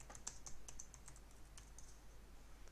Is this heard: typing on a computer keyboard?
yes